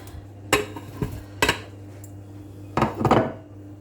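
A wooden spoon scrapes and knocks against the metal pot of a Pressure King Pro pressure cooker while stirring flour-coated diced beef, giving a few separate clunks and a longer scraping burst over a steady low hum, close and fairly loud.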